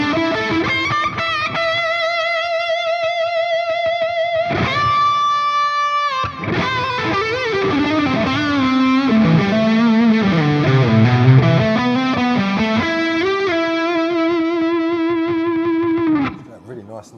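Electric guitar through a Friedman IR-X tube preamp playing sustained chords and a lead line, washed in long, spacious modern reverb, with notes ringing out and a tail fading at the end.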